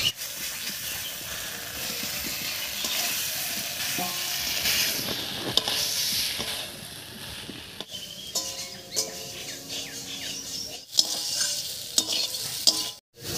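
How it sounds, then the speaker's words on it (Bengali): Fried potatoes are stirred into sizzling masala in a pan for a shutki fish dish, a steady close hiss and sizzle with intermittent scraping strokes of the spoon, no voices. "মশলার সঙ্গে আলুটাকে খুব ভালো করে কষিয়ে নিয়েছি"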